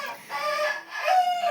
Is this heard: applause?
no